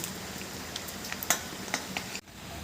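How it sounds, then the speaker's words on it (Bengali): Egg-coated snacks made from flour and lentils fry in hot oil, a continuous crackling sizzle dotted with small pops and utensil taps, which cuts out briefly near the end before the frying resumes. "বন্ধুরা লাল লাল করে ভেজে নিচ্ছি এরপর তুলে নিচ্ছি"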